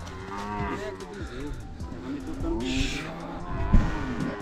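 A newborn calf moos on a farm, several low bellowing calls close by, with people talking over the sounds.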